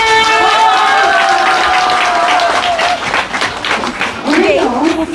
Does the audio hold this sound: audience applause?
yes